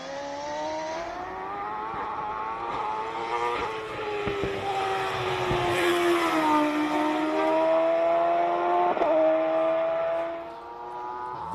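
Single-seater race car engine at the Simola Hillclimb, a high-revving Formula-style note that climbs and shifts through gears, loud and continuous up close, fading slightly at the end.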